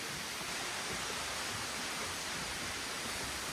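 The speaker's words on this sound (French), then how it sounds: "on est monté jusqu'à la 7e cascade" A waterfall in Thailand, the seventh cascade up a series of falls, gives a constant loud, broad rushing roar with no breaks and no voices.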